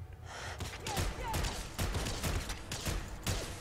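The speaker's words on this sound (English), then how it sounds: "I'm actually really impressed with this weapon sounds" Crude Blowback weapon firing in the video game Fallout 4, a dense run of thumping shots and bursts over constant gameplay noise, fairly quiet and steady throughout.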